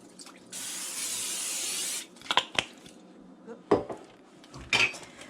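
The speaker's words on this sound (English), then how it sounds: "you're going to spray your sheet" Olive oil cooking spray hisses onto a sheet pan in one steady burst of about a second and a half, followed by a few light metallic clinks and taps of the pan.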